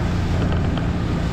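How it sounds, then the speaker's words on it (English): Ocean waves break close by in a heavy swell, wind buffeting the microphone in a steady low roar and wash that lasts throughout, with no voices. "So you can see the waves breaking there"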